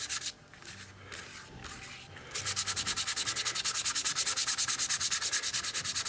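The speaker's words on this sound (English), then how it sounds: "take a piece of sandpaper, make a lot of dust. The more dust, the better." A hand-held piece of sandpaper rubs a surface, first in a few scattered strokes, then in fast, steady back-and-forth scratching, close and crisp with no talking.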